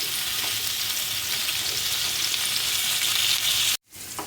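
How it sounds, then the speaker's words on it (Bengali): Spiced pointed gourd slices fry in hot oil with a steady, loud, close sizzle that runs unbroken for several seconds before cutting off abruptly. "এখন আমি যে পটলগুলো কেটে মশলা মেখে রেখেছিলাম এর মধ্যে দিয়ে দিচ্ছি, দিয়ে ভেজে নিচ্ছি।"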